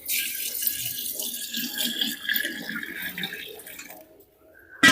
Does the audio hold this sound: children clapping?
no